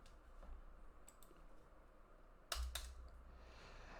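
Computer keyboard typing in quick, soft clicks, with two sharper bursts of keystrokes near the middle, faint and close against a quiet background.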